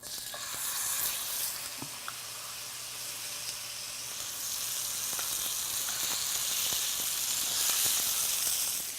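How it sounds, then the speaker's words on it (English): Lamb chops sizzling in a frying pan, a soft continuous hiss and crackle of fat that grows gradually louder, heard close and alone without voices. "we're just going to take the lamb chops out of the pan and put them into a roasting pan"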